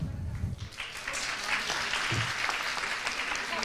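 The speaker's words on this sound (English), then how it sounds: "let's give a big round of applause for the jury board." Audience applause fills a Bucharest business services forum and awards hall as the jury board is introduced, a steady dense wash of many hands clapping at moderate distance, with a voice briefly over the start.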